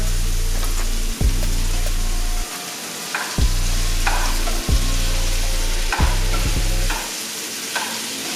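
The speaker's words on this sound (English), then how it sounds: "Now I'm gonna throw the shrimp in there so the flavors can really mix up in there" Vegan shrimp stirred into sizzling vegan pineapple fried rice in a pan, a steady loud fry hiss broken by about six scraping spatula strokes spaced roughly a second apart.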